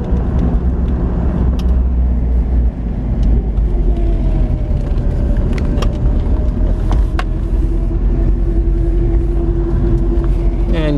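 A 1977 Toyota Celica cruising, its engine drone and road rumble steady and close throughout, with a faint rising whine partway through.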